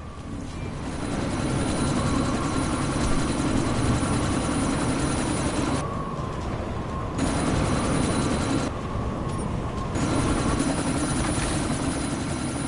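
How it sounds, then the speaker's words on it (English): Helicopter in the video game Deus Ex: Mankind Divided, a loud continuous rotor and engine drone that stays close and steady throughout, dropping out briefly twice, with no talking. "Jensen, this sandstorm might have just bought us some time, but you need to disable that chopper."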